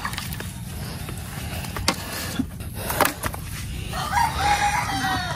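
Chickens cluck and a rooster crows amid a noisy flock of chickens and ducks being fed, with scattered scuffling and outdoor bustle close by.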